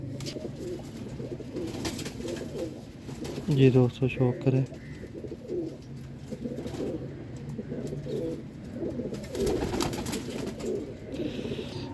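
Kamagar pigeons coo in low, throaty rolling calls, clustered briefly and repeating faintly later, while someone talks over the birds in a busy setting.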